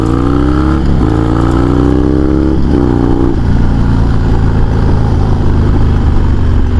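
A Harley-Davidson Sportster motorcycle engine revving loudly nearby, two quick throttle blips rising and falling over a deep rumbling idle, then a sustained heavy roar, with no talking.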